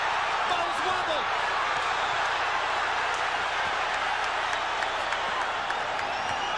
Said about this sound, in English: Crowd lights up as Golota lands a combo.